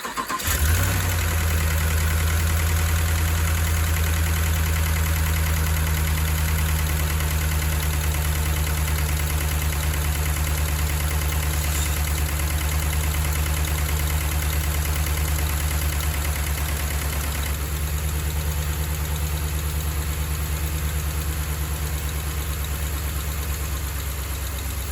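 A Hemi V8 engine idles steadily, its low rumble running continuously for the whole stretch with a faint ticking from the lifters riding on top.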